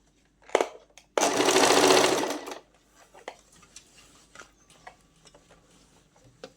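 A sewing machine stitches in one loud continuous burst of about a second and a half, preceded by a short whir and followed by quiet clicks and handling taps.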